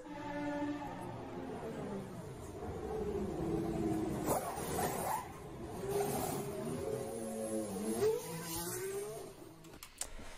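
A real-life 2021 Formula 1 car engine revs loudly and continuously, its pitch sweeping up and down through several rising and falling surges, with a short sharp burst near the end.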